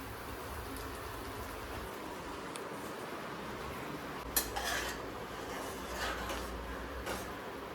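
Egg bhurji being stirred in a pan for anda rice, with soft scraping and clinks of a utensil against the pan over a steady sizzle, plus a couple of sharper metallic knocks.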